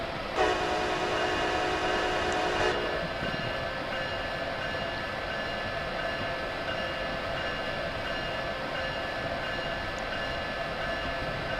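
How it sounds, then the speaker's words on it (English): In Train Simulator 2015, a locomotive horn sounds one steady blast of about two seconds over constant engine and cab rumble. The rumble continues after the horn stops, and nobody talks. "And let's sound the horn."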